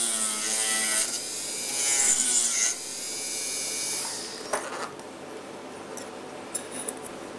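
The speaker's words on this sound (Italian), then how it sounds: "Guardiamo sempre la punta della fresa mentre fresiamo." A metal milling cutter on a milling machine bites into metal with a high, bright whining screech, loud and close, easing off after a few seconds into a softer steady whir broken by sharp clicks.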